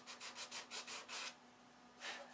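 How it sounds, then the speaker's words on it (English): Rhythmic hand sanding strokes on the bottom of an aircraft's finish, fillets included, about seven quick back-and-forth rubs in a row, a pause, then one more stroke, close and fairly quiet with a steady low hum beneath. "There is a ton of sanding to do. Working on the bottom now."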